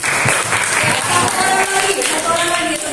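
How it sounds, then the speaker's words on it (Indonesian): Classroom audience in a teacher training lesson on ecosystems clapping loudly and continuously, close and dense, with voices mixed in. "Oke, kasih tepuk tangan dulu dong."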